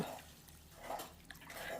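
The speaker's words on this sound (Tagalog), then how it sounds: "maglalagay ako ng 1 cup ng tubig" A cup of water goes into a cooking pan of melted margarine with a soft splashing pour and a few light drips, heard close and quiet with no talk.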